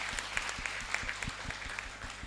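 Hands clapping in rhythm at a church prayer gathering, steady repeated claps filling the whole moment, fairly close, with no talking over them.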